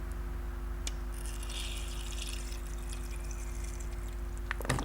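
Water in a sieve set up for collecting thin plant sections cut against elder pith, a steady soft wash of liquid that runs through the whole stretch with a brief brighter splash near the end.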